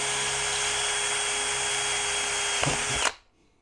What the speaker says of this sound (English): using a high speed metal drill bit.